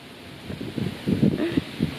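Strong gusts blow outdoors on a windy but not cold day, buffeting the microphone with a low, uneven rumble that swells and fades over a couple of seconds, with no clear talk.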